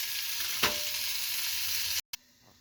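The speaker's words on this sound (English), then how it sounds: "So we're just going to have the veggies in the Dutch oven, and we're just going to let it cook, again at about medium heat" Vegetables cook at medium heat in a Dutch oven, a soft steady sizzle with one sharp clink partway through, then a brief cut to near silence at the end.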